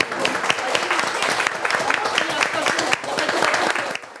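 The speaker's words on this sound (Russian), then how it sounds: "Аплодируем" An audience at a parents' discussion about helping children with homework claps in a steady, moderately loud patter, with individual claps standing out and a brief dip near the three-second mark.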